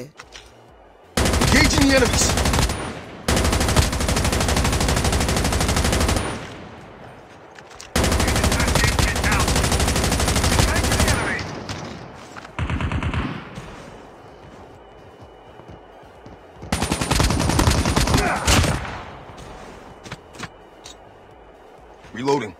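Rapid automatic gunfire in the mobile game Call of Duty Mobile, several long loud bursts separated by pauses, with a voice talking during the quieter stretches.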